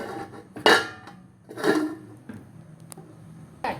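A lid is set down onto a pot of simmering fish curry, giving a few sharp metallic clinks and clatters spread over several seconds, close and moderately loud with quiet gaps between.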